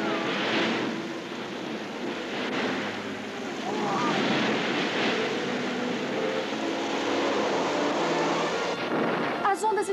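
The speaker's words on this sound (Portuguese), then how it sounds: "As ondas estão chegando até nós." Cartoon ocean waves approaching in a Noah's ark story, a steady loud roar of surf and rushing water with rising and falling swells throughout.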